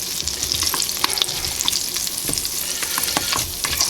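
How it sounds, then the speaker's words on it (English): Butter sizzling and crackling in a pan over medium heat, a steady close frying hiss with frequent small pops and some stirring, no talk. "This butter melted over the medium heat."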